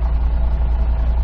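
Subaru WRX STI (VAB) engine idling after a long idle with a hot engine bay, a steady low rumble that stays constant and close throughout, with no talk.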